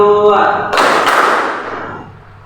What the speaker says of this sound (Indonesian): Tepuk tangan dua.